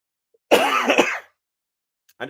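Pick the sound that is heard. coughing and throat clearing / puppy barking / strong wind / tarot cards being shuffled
coughing and throat clearing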